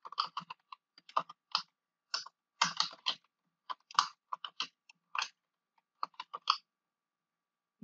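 Close, quiet keystrokes on a computer keyboard come in quick irregular bursts with short pauses while a description is typed into a Google Sites page.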